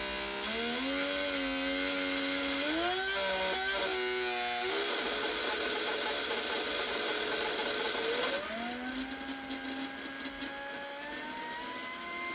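A high-pitched, buzzing engine runs at full throttle on an auction car build, its whine rising and wavering before dropping to a steadier, slightly quieter drone.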